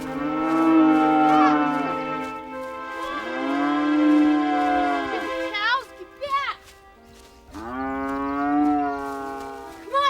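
Cattle mooing in long, loud, drawn-out calls, several overlapping lowing voices close by in a pasture, with a brief gap of quieter grunts before another sustained moo.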